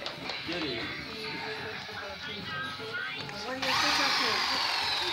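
A handheld power drill whirs while mashing potatoes in a kitchen, a steady motor drone with a sharp rise in pitch and loudness near the end, heard under people talking and laughing.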